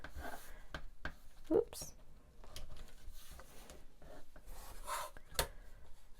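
A rotary cutter and ruler trimming the excess off quilt half-square triangles for a Crown of Thorns block, giving soft scraping and rubbing strokes with a few light taps. A voice speaks briefly nearby.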